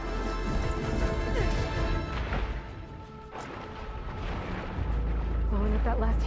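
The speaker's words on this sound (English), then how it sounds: "Blowing up that last heat sink might have breached the hull" A heat sink blows apart on a ship in the game Horizon Forbidden West, loud crashing and booming blasts rolling over a dense, continuous rumble of effects, with a deep low boom swelling near the end.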